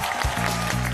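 Studio audience applause for a contestant on a television quiz show, a short burst of clapping mixed with a low droning tone and a voice.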